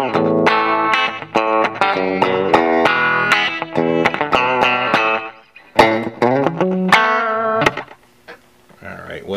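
An electric guitar played through a Guitar Rig 5 Country Guitar Clean patch picks a quick run of bright, twangy notes, then pauses briefly before a few more phrases ring out alone, close and loud.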